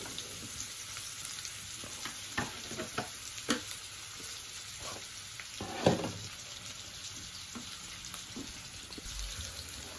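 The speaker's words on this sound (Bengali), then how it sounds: "অনিয়ন দিয়ে দিলাম।" Onions sizzling in oil in a pan, a soft steady frying hiss broken by scattered clinks and stirring knocks, fairly quiet and close, with no talking.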